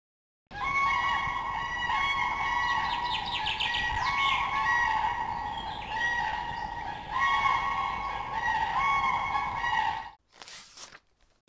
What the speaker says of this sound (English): Crane crying.